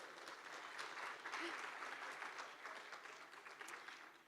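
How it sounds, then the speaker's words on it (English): Applause from a conference audience, a steady dense patter of many hands clapping that holds evenly throughout, moderately distant and fairly quiet. "So a huge applause for Noble, please."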